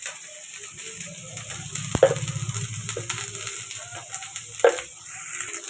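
Turmeric, spices and a little tomato sauté in a hot pan, giving a soft, steady sizzle with two sharp utensil knocks as the mixture is stirred.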